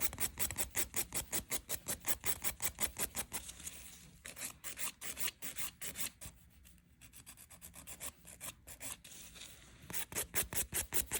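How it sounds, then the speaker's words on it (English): A 100/180 grit combination nail file is drawn rapidly back and forth across a fingernail during a sculpted French tip manicure, making soft rhythmic rasping strokes with a brief slower stretch in the middle, close and quiet with no voices. "I always start with my 100 grit side when I'm filing and work towards the 180 grit side."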